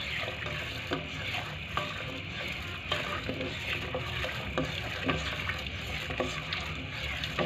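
Sweet mung bean dish with coconut milk and sticky rice cooking in a pan, with a soft steady sizzle and repeated faint stirring scrapes at a moderate distance.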